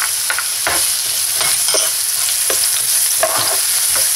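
Onion and garlic sauté in oil in a pan with a constant close sizzle, while a spatula scrapes and stirs in quick irregular strokes throughout, with no voices.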